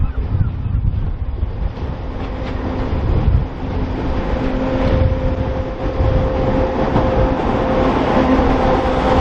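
An East Midlands Railway train pulls in on the Poacher Line in Lincolnshire, a steady loud rumble and rail drone with a faint sustained tone, heavily buffeted by gusting wind on the microphone throughout.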